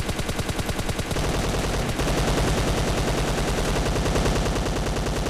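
Rapid automatic gunfire rattles continuously at close range, dense and loud, with no pauses throughout, in the video game PUBG Mobile.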